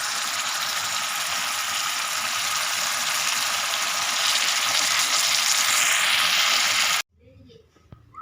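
Sambal chili paste frying in oil as its oil separates, a dense continuous sizzle for about seven seconds that cuts off abruptly, followed by faint quiet room sounds.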